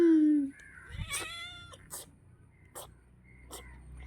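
A cat gives a drawn-out meow, followed by a few shorter, higher cries and soft rustling in a quiet room.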